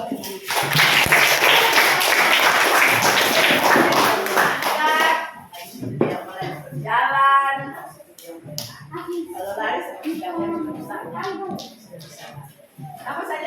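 Children clap their hands together in a dense burst of applause lasting several seconds, loud and close, followed by a teacher talking and children's voices answering.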